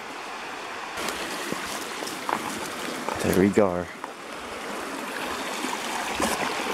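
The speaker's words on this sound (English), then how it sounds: "Taking a quick little break right here by the little stream." Small mountain stream in elk country trickling and burbling steadily near the microphone, with brief rustling and a short spoken remark partway through.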